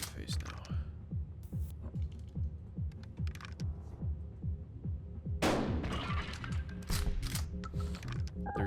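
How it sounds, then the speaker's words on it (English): Repeated shotgun blasts in a video game, with a sharp, loud burst midway and further shots after it, heard through a steady low mechanical throb and clatter. "Alright, I'm shooting in the face now."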